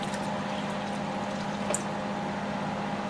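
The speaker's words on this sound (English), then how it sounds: "So we need to add some more water." Water is poured steadily into a large slime mixture, a continuous liquid rush and trickle with no talk and a brief splash near the middle.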